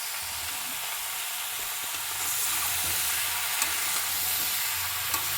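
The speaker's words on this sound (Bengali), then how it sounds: "এবার এইটাকে খুব ভালো করে ভেজে ভাজা ভাজা করে নিতে হবে" Fish and bottle gourd fry in a pan with green chilli, giving a steady loud sizzling hiss that swells partway through, with a few faint clicks of stirring and no talk.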